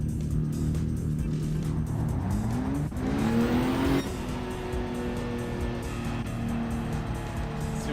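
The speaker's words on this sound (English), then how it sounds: "See what kind of burnout I can do with this car." Tyres squeal and an engine revs hard as a car does a burnout in the video game Gran Turismo 7, loud and sustained with a rising pitch sweep midway.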